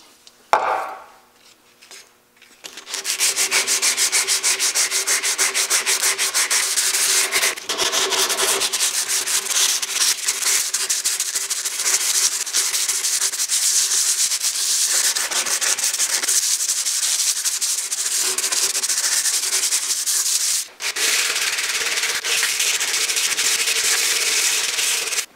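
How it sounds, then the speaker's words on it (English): Steady, continuous abrasive rubbing of sandpaper by hand against a metal axe head, loud and close, running almost unbroken with a brief pause near the end. "So I'm going to use this part here to keep on sanding."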